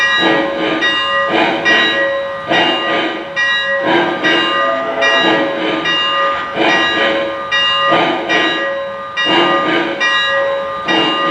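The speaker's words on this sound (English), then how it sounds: "once I get below speed step 24, the bell will turn on automatically." Lionel Legacy EM-1 2-8-8-4 model steam locomotive bell ringing steadily and repeatedly as the engine slows toward a stop, loud and close, with no talk over it.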